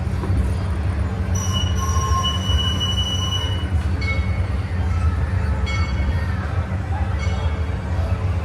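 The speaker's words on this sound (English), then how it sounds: "Very slow train ride" An amusement park train ride at Dorney Park rolls slowly along its track with a steady low rumble, while wheels squeal in high, drawn-out tones on and off throughout.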